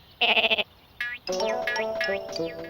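A cartoon sheep bleats in a rapid, wavering series, loud and close, followed by other cartoon sounds and musical tones.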